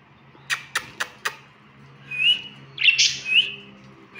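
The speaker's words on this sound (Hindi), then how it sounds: "मेरा एक तोता शायद से मटकी में है।" Pet parrots inside a clay pot give a quick run of four sharp chirps, followed by louder, longer whistled calls and squawks, close and clear with no talking.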